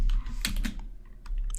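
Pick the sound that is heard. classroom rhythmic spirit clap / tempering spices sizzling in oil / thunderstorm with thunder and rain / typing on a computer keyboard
typing on a computer keyboard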